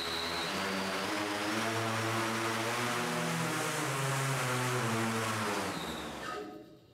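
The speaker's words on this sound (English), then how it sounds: "Okay, restarting data acquisition and starting motors now." Wing 7 airborne wind turbine prototype from Makani Power, its motors and propellers spinning up into a loud steady buzzing whine with rising harmonic tones, holding strong before cutting off near the end.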